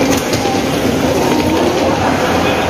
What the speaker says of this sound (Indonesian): kita naik kereta dulu di stasiun Padang Besar